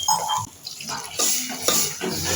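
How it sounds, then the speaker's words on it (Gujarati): Water is poured quickly into a pan of melted jaggery on a stove during cooking of dal vada batter, a close splashing, hissing rush with brief pan clatter, no voices. "ફટાફટ પાણી વેડવાનું"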